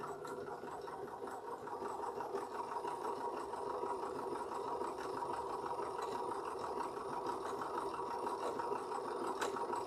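A sewing machine runs steadily with the presser foot backed off, giving a continuous even mechanical hum and fast stitching whir at moderate, constant level with no pauses.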